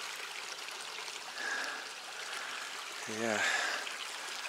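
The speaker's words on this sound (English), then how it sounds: "Pretty sure this is Mill Creek. Pretty nice. At least it's running through." Mill Creek runs steadily along a trail as a broad, continuous wash of flowing water, with a person briefly speaking over it near the end.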